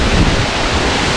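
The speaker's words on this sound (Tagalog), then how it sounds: "ang hangin nagikan sa pagtagat sa tubig. Kusog kayo" Strong, steady roar of wind and water spray at the base of a tall waterfall, Kalanggaman Falls, a loud broadband rush close to the microphone with no voices.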